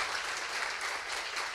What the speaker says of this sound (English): Can you have a big round of applause for him?